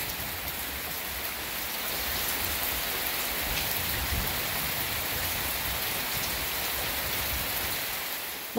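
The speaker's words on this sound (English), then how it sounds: "it sure is peaceful during a nice little thunderstorm." Steady rain pours down during a windy thunderstorm in the Western Kentucky woods, a dense and even hiss of drops on surfaces, fairly soft, with no thunder standing out and no talking.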